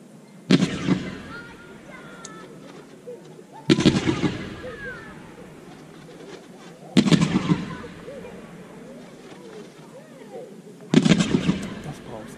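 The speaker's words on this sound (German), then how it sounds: "Special OK Waterfall, Kaliber 30 mm, 81 Schuss." A PyroArtists Brocade Waterfall 30 mm firework battery of 81 shots fires in four sharp, loud booms spaced a few seconds apart, each trailing off into crackle and rumble outdoors.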